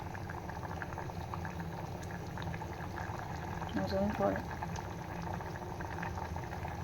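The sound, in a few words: fish curry (sar) boiling in a pot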